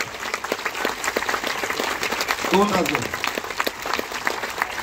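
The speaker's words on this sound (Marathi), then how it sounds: "जोरदार टाळ्या" An audience at an evening Buddhist and Bhim song program breaks into steady applause that continues throughout, with a voice speaking over the clapping.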